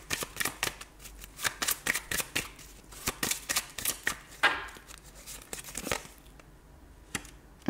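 Tarot cards slide, flick and rustle close by as one card is laid over another, a steady run of crisp paper snaps and shuffles that tapers toward the end.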